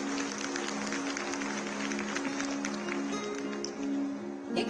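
A large gathering of women at a religious festival applauds, a broad steady wash of clapping from many hands sustained for several seconds, evenly loud with a slight swell near the end.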